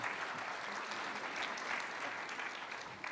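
A church congregation applauds an award presentation at a Sunday afternoon worship service, a dense, even wash of clapping that holds steady and fairly loud throughout, with no voices on top.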